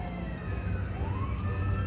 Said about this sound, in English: if you can hear that siren in the background